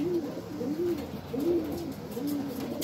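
Pigeons in a loft in Oklahoma coo in a slow repeating rhythm, several soft, low warbling calls close by over faint background noise.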